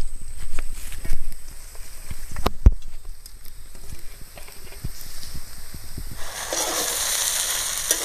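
Crispy fried fish are dropped into a pan of salt, chow masala, tomato sauce and lemon for fish chow. A few knocks and clatters give way to a steady, fairly loud sizzle that builds over the last seconds.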